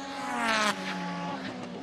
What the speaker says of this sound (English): No, it's an acceleration check for the engines.